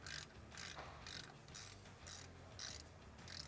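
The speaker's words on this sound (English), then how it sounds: "So you're gonna take a 3/8" drive on your plug. Just gotta break that guy free." A 3/8-inch drive ratchet works a differential fill plug loose on a Nissan Frontier, giving a steady run of close mechanical clicking pulses in repeated bursts, quiet and with no talk.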